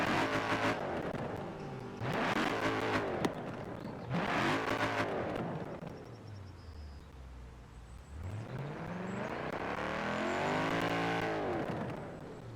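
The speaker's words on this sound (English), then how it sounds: "So let's go ahead and rev this engine." A Hammer Coupe car engine in Forza Horizon 4 revs hard in several quick bursts, then climbs in one long, loud rising rev, with no talking.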